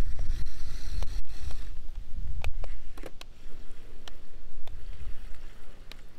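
Revell Control Storm Monster RC amphibious toy vehicle driving out of water onto land, with close splashing, water churn and wind buffeting the microphone, plus several sharp knocks and ticks over a steady low rumble.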